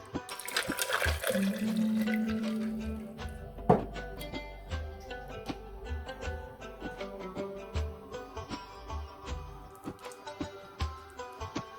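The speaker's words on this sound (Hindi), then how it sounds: "पानी डालूंगी" Water pours into a blender jar for a cold drink, a rushing splash in the first few seconds that gives way to scattered drips and light clinks against the jar, close by.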